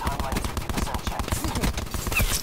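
Gunfire in Call of Duty Black Ops 4, shooting through a wall during a close-range fight, rapid dense bursts of shots packed together, loud and near, with game noise around them.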